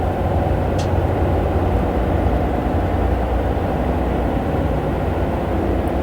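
A Class 303 electric train runs steadily in Train Simulator 2015, a continuous close rumble and roar of motors and wheels on track with no breaks, loud and even throughout.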